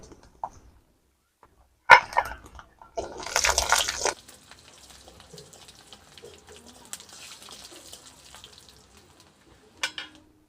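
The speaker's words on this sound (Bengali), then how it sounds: "এবারে তেলের মধ্যে আমি পাঁচ থেকে ছটা গোটা রসুন দিয়ে দেব" Five or six whole garlic cloves and half a spoon of nigella seeds dropped into hot mustard oil, giving a sudden burst of loud crackling sizzle that settles into a quieter steady frying hiss, with a few clinks near the end.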